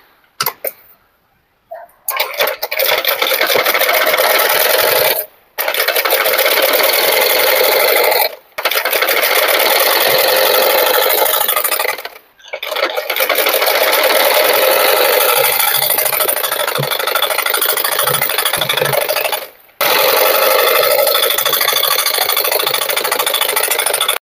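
A sewing machine double-stitches a blouse in long, steady whirring runs, with about four brief pauses between bursts. It is close and loud, with no talking.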